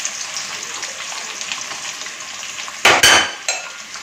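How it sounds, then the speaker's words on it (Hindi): Onion tipped into hot oil in a pan while making an okra (bhindi) dish, a steady sizzle with a sudden loud burst of hiss near the end and a couple of sharp splashes. "ऑयल गरम हो चुके हैं तो अब इसमें प्याज डाल देती हूँ"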